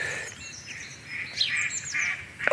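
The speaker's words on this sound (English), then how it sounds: "So that was a mallard coming into land." A mallard duck calls while flying in to land near a garden pond, a few bright, close calls ringing out over quiet background with a louder burst at the end.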